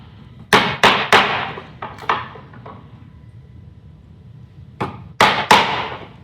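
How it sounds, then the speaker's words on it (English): A chisel finishing a diagonal cut in a wooden vertical sliding window sash, a cluster of three sharp close taps, a few lighter knocks, then three more sharp strikes after a pause. "So we're going to take this chisel"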